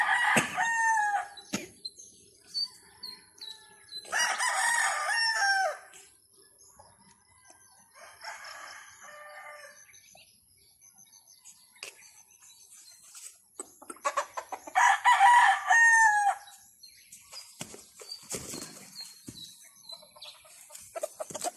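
A fighting rooster crows in backyard breeding pens: two loud, drawn-out crows close by, separated by quieter stretches of faint clucks and scattered yard noise.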